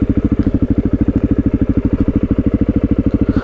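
Suzuki DRZ400E motorcycle idling in neutral, a close, loud single-cylinder thump pulsing in a rapid, very even rhythm throughout.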